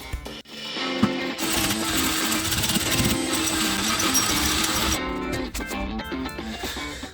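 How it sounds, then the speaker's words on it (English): Loud, harsh grinding and rattling of a drill biting into a metal exhaust bracket for a 1972 Honda CB175, sustained for several seconds, with clanks before and after. "I'm going to go ahead and drill out the holes so that we can mount this properly"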